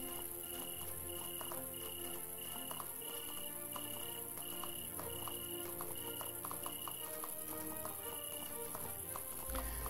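Horse hooves in the video game Animallica, a regular clip-clop of steps over a background of steady tones and game ambience.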